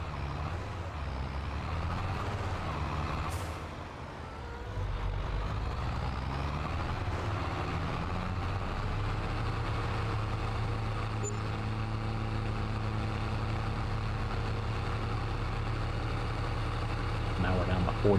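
A 150-horsepower farm tractor engine runs steadily at idle for the whole stretch, a low continuous rumble close by with a brief dip near the start, while people talk over it.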